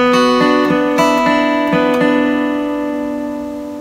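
Acoustic guitar playing a song's riff: clear strummed chords in a down-up rhythm with ringing sustained notes, close and loud, then fading out over the last couple of seconds with no voice.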